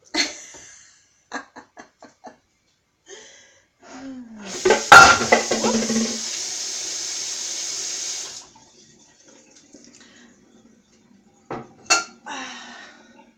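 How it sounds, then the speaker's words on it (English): An unwashed pan clatters sharply onto a floor in a single loud crash, surrounded by running tap water and scattered dish clinks. "a pan that nobody will wash hits the floor"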